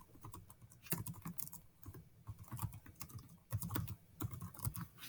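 Rapid, close computer keyboard typing while coding in an editor, irregular bursts of soft clicks and key taps at a quiet level, without any voices.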